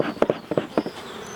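Honeybees around an open hive from a swarm, a few short loud buzzing bursts close by, then a softer continuous hum.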